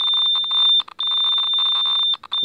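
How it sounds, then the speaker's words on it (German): A radiation detector's warning alarm sounds loud and close, a shrill high electronic beeping pulsing steadily with two short gaps. "Jetzt haben sie auf jeden Fall mitbekommen, dass hier was piepst."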